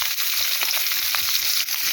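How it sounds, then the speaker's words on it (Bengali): Tomatoes frying in a pan over a clay stove, a steady close sizzle with bright crackling spits running throughout without a break. "তাই টমেটোটা একটু ভেজে নিতেছি আমি।"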